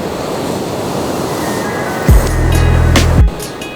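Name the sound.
ocean waves on Diamond Beach, Iceland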